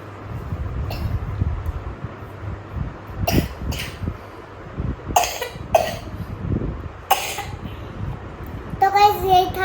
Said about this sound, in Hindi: ज़बरदस्ती खांसे जा रहा